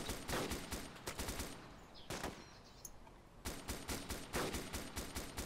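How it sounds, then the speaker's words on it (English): Video game gunfire in Arma 2 DayZ, heard as rapid bursts of shots at moderate distance, with clusters near the start and a longer run of shots toward the end, separated by a quieter gap. "That's where they're firing."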